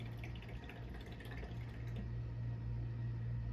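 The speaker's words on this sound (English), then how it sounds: "So as you pour it in, you can kind of see how much you're pouring in." Yellow DTF printer ink is poured into a container while setting up an EnjoyColor A3+R DTF printer, making a faint, steady trickling pour that runs continuously under a low hum, with no voices.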